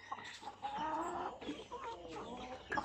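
Chickens cluck and murmur close by inside a backyard poultry breeding house holding dongtaw and hybrid asil-based birds, a steady run of soft clucks and calls with a louder squawk at the end.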